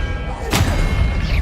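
A Descendo spell cast in a Harry Potter video game lands as a single sharp, booming impact burst midway, standing out over a dense rumbling game backdrop.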